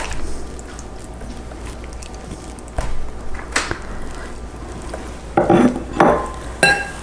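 Sour cream spooned into a bowl of cooked onions, with soft scraping and wet plops from the spoon against the bowl, plus a few sharper clinks of utensil on dish near the end.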